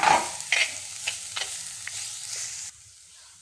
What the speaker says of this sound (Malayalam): ഇലയും തണ്ടും എല്ലാം കൂടിയാണ് ഞാൻ ഇതിലേക്ക് ഇട്ട് കൊടുക്കുന്നത് ഇനി നമുക്കിത് ഇളക്കി കൊടുക്കാം